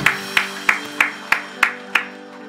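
A church congregation at a third-anniversary thanksgiving service claps in a steady, even rhythm, about eight sharp claps at a brisk pace, over sustained keyboard or organ tones.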